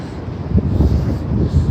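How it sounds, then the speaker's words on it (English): Wind gusts buffet the microphone while someone walks uphill along Pine Avenue near the McGill University campus, a loud, low, rumbling blast that swells and dips in short surges. "Occasionally a gust of wind catches me off guard."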